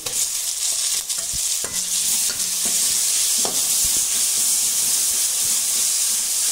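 Tomatoes drop into a pan of sizzling onion and garlic paste for dal khichdi, giving a loud, steady frying hiss with brief stirring clicks and scrapes throughout.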